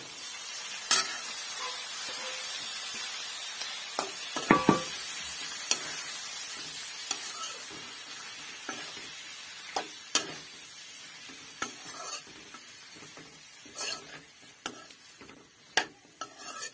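Vegetables are stir-fried in a pan, a soft continuous sizzle broken by scattered scrapes and clinks of a utensil stirring against the metal, fairly quiet and steady throughout with no talk.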